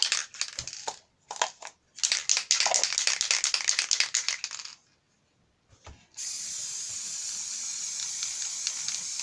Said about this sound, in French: Et mon spray.